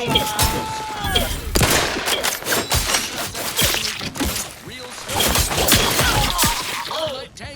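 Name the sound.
wrist weapon firing in video game The Outer Worlds 2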